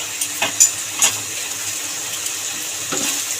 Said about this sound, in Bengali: মশলা কষাতে কষাতে নুন হলুদ মাখা চিংড়ি মাছটাও দিয়ে দেবো